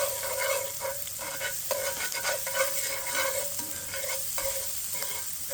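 Diced onions sizzle in a pan for beef braciole, a continuous close crackling hiss broken by frequent scraping stirs, with no voices.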